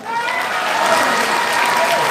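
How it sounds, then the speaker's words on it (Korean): Sustained audience applause at a National Assembly meeting-hall event for a People Power Party leadership candidate, steady and dense clapping throughout with some voices mixed in. "우리 윤상현 의원님 앞으로 힘내시라는 뜻에서 큰 응원의 박수 부탁드립니다."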